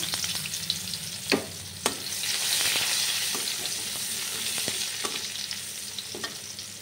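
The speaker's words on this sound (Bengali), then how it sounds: "এখানে মাছ ভাজার পর যে তেলটা রয়ে গেছে ওটা আমি পেঁয়াজ কুচি দিয়ে দেবো।" Chopped onion sizzles steadily in oil left over from frying fish, a close, continuous frying hiss broken by a few sharp clacks of a stirring utensil against the pan.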